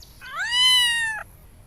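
A black cat meows once in a Hindi cartoon, a clear, drawn-out, rising then level cry lasting about a second, loud and close against a quiet background.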